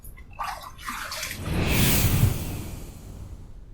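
Running tap water pours steadily over a razor being rinsed, a close, continuous splashing rush that swells in the middle and then settles, with no talking.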